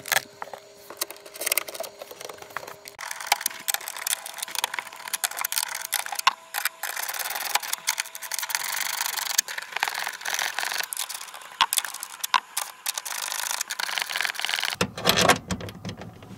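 A ratchet wrench clicks rapidly in repeated bursts while tightening the bolts of a Subaru BRZ tail light, close and dense with mechanical rattles, ending in a rougher scrape, with no talk.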